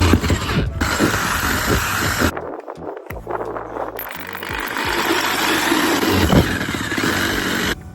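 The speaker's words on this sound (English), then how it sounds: "There's just something unnerving about drilling a hole in the top of your van." A loud power drill grinds steadily through a micro campervan's roof, cuts out briefly, then whirs back up and keeps boring under a harsh mechanical rattle.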